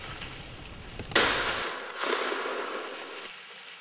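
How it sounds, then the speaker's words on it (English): A .416 Rigby rifle loaded with Woodley soft-nose bullets is fired at a buffalo bull. One sharp, loud report sounds, and its echo rolls away briefly afterward in open country. "The Woodley soft-nose crumpled the big bull the first shot, and then 3 shots anchored him."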